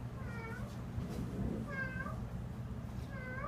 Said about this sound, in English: She started hearing meows coming from the alleyway.